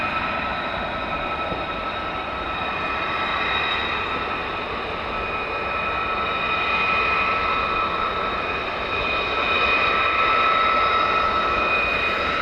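F-35 jets taking off at night at RAF Lakenheath, heard as a loud, steady jet roar that holds for about twelve seconds without a break.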